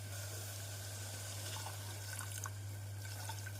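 Water is poured from a tumbler onto chopped carrots and soaked chana dal in a pressure cooker, a steady faint running trickle over a constant low hum, with no talking.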